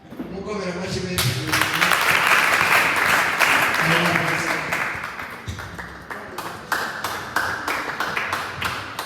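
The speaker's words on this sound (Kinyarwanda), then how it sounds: "bizima bino guhobera mukomera amashyi menshi" A congregation at a church gathering breaks into loud applause while a voice carries over the start, then the clapping thins into separate sharp claps and taps.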